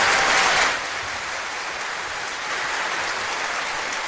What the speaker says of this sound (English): That is the deservance of an applause right there.